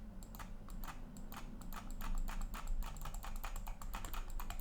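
Quick mouse clicks while painting with a brush in GIMP 2.10.14, heard as a close, dense run of light tapping clicks in uneven bursts over a low steady hum, with no speech.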